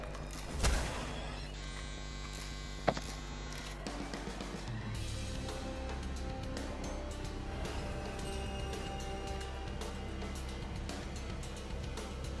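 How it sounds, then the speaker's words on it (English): A clothes dryer running in a nearby room gives a steady low electrical hum throughout, with a couple of brief thumps early on. "I think it was the dryer."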